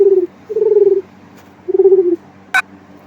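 A dove coos in a children's bird cartoon, three soft, low, drawn-out coos with pauses between, followed by a brief sharp click, close and alone without speech.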